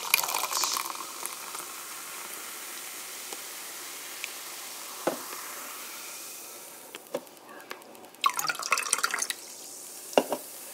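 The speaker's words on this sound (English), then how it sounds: "Last but not least, pour in the Pepsi." Pepsi Cherry Natural Flavor poured into a cup, a soft continuous fizzing with scattered drips and a few louder splashy bursts near the end, close and quiet.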